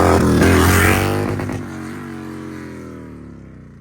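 A Harley-Davidson bagger motorcycle accelerating hard in second gear, its engine roaring loudly up close and then fading as it pulls away, with no talking over it.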